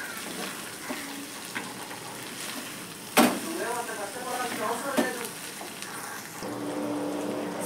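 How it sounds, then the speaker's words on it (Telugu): Prawns frying with garam masala in a pan, a steady close sizzle with scraping stirs and a sharp clack of a utensil against the pan partway through, and a voice faintly under it. "ఇప్పుడు ఈ గరం మసాలాని మొత్తము ఫ్రై చేసుకోవాలి"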